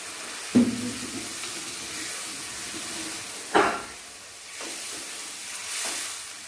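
Water poured into a pan of masala-fried potatoes gives two sharp bursts of hiss and sizzle, then a steady simmering sizzle in between and after, close by with no talking.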